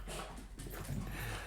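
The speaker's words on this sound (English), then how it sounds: "My happy dog beside me." A dog whimpers and pants close by in a quiet room, the soft breathy panting continuing steadily for a moment.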